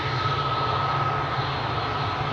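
Jet engines of a TUI airliner at Schiphol Airport produce a loud, steady roar with a sustained tonal whine running through it, continuous for the whole stretch.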